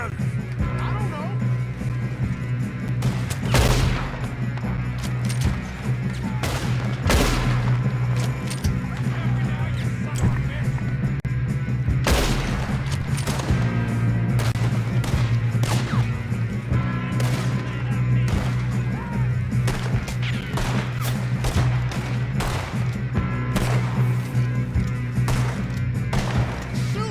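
Gunfire during a Red Dead Redemption 2 shootout: repeated sharp shots and volleys scattered throughout, mixed with game noise and a steady low rumble, with voices talking at times.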